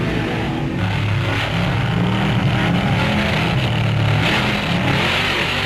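Drag racing cars at a strip, a dense sustained engine roar that holds steady and loud throughout, with no pauses or voices breaking through.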